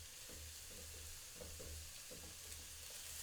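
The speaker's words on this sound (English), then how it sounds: "You'll hear that hopefully that's starting to sizzle away already" Onion, garlic, celery and carrot sautéing together in a pan, a steady broadband sizzle with faint stirring scrapes, heard alone and quietly at close range.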